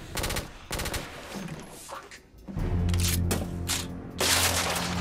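Gunfire in the video game The Order: 1886, loud rapid bursts of shots and booming blasts crowding together, followed by sustained heavy firing with a droning tail.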